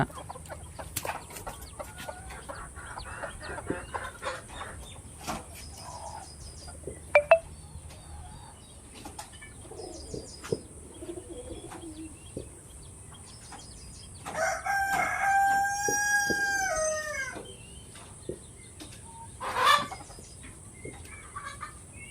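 Naturally raised chickens on a farm in Pondicherry cluck on and off in the background while a rooster crows loudly about halfway through, with a shorter crow or squawk following soon after.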